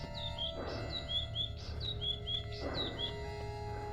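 Repeated high chirps and short tweets of birds in the ambient soundscape of the video game The Witcher 3: Blood and Wine, steady and fairly near over a constant low background hum.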